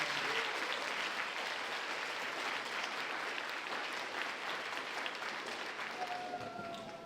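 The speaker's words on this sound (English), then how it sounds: "give yourself the loudest round of applause" Loud, sustained applause from a crowd of 8th graders at a K-8 school grade promotion ceremony, continuous and dense, tapering slightly near the end as a few voices call out.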